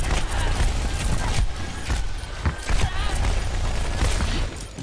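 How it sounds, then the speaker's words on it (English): Gunfire in Overwatch as players shoot at Mei's ice wall, a busy, continuous rattle of shots and mechanical clatter layered with game noise, while a voice talks over it. "They're shooting Mei's wall."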